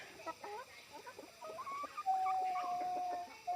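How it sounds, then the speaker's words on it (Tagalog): Healthy hens, tired from travel, cluck softly and repeatedly nearby, with a few rising calls and one long sustained tonal note toward the end. "Ayan mga idol, napakalulusog na mga hens."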